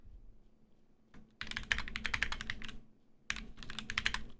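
Typing on a computer keyboard in two bursts of rapid, crisp clacking keystrokes, close and clear, separated by a short pause with no talk.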